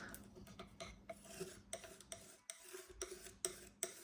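A palette knife scrapes and mixes oil paint on a palette, soft close rasping strokes with a few sharper taps of metal, quiet and steady with no voice.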